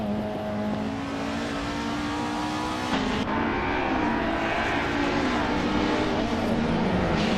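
Race cars in a racing video game roar continuously, with engines revving and shifting pitch as they accelerate, one car briefly surging past partway through.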